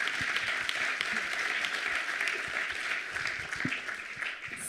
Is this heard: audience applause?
yes